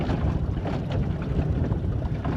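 A boat motors slowly over a wreck on Lake Macquarie, its engine a steady close low rumble mixed with wind buffeting the microphone throughout.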